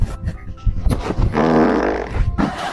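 A loud, drawn-out fart rumbles for about a second, close and rough, between short vocal sounds.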